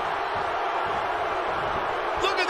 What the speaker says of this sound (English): Look at this crowd. It's insanity in here.